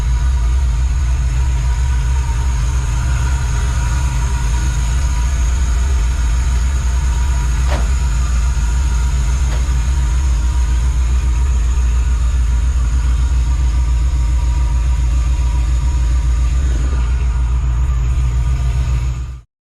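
A 1999 GMC Sierra with a 5.3 V8, just fitted with a new cam and valve springs, idles in a loud, close, even low rumble that holds steady for about twenty seconds before cutting off abruptly.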